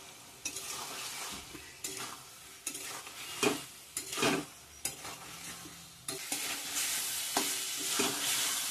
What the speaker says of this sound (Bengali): যে আলুটা ভেজে রাখছি দিয়ে দিলাম। আবারও ভালো করে কষিয়ে নেব